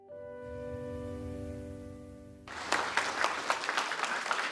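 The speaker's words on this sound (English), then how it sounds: "Thank you for that applause." Applause from the audience at a guide dog school's class graduation breaks out after a passage of sustained musical tones, a dense, even clapping that continues steadily to the end.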